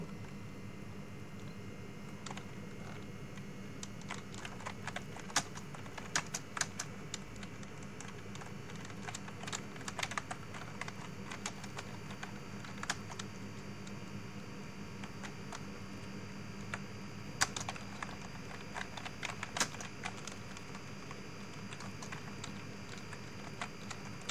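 Someone types an email on a computer keyboard: soft, irregular key taps come in scattered bursts over a steady low hum, with no talking.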